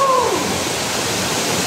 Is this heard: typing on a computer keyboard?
no